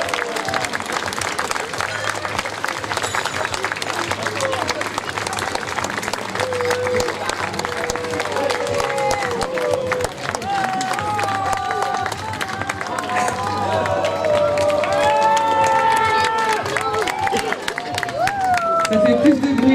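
A crowd at an outdoor costume parade show in Chanaz applauds steadily for a costumed group, with cheering and chatter mixed into the clapping and a voice carrying over the noise near the end.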